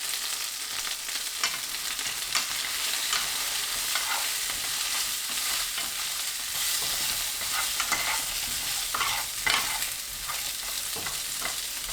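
Chicken wings frying in a pan as they are tossed with fine salt, pepper and chili powder: a steady bright sizzle with scraping stir strokes throughout, close and continuous, with no talking.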